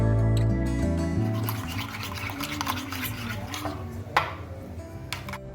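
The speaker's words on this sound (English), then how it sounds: "Next add 2 tablespoons of mayonnaise and mix all together." Spoon stirring tahini paste with salt and mayonnaise in a bowl, a close, continuous scraping and squelching with soft rhythmic strokes and a brief clink near the end, over faint background music.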